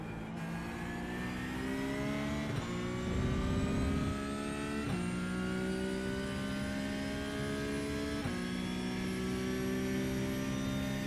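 A Cup car engine in the rFactor 2 racing sim drones steadily under load, its pitch climbing and then dropping sharply at three upshifts, loud and continuous with no talking.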